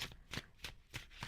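Tarot cards are shuffled in quick bursts, giving a brisk rhythmic riffle of crisp papery slaps that repeats about every third of a second, close up and moderately loud with no talking.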